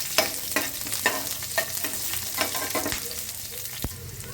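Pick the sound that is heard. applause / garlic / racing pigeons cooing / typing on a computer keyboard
garlic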